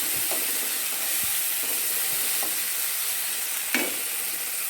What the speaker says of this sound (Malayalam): നന്നായി ഒന്ന് വരണ്ട് വരണം ഇത് പച്ചമുളകെല്ലാം ഒന്ന് മാകുന്ന വരെ വഴറ്റി കൊടുക്കാം